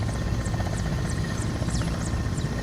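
A simulated Mil Mi-17 V-5 helicopter taxis in Microsoft Flight Simulator, its turbine whine and steady rotor throb holding loud and constant with rhythmic blade slaps.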